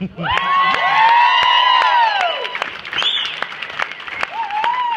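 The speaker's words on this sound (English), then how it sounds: "we need to give a big round of applause, and I want everybody to get really rowdy" A loud wedding reception crowd claps and cheers continuously, with whoops and high shouts rising over the applause, which eases slightly toward the end.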